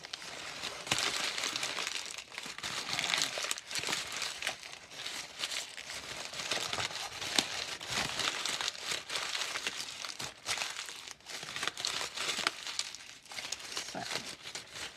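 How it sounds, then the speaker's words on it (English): Sheets of paper being scrunched and squeezed to make faux leather, a dense, continuous crinkling and crackling that stays loud and close for the whole stretch, with no voices. "once you've scrunched the paper up and you've got loads and loads of creases"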